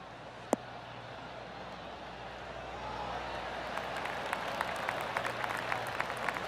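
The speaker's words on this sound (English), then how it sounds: "golf clap" Golf spectators at a PGA Tour Zurich Classic event give a polite, scattered round of applause that builds gradually and stays moderate and somewhat distant, preceded by a single sharp club strike.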